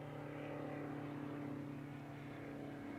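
An airplane drones overhead as a steady, faint engine hum that holds evenly throughout, distant outdoors beside a fishery lake.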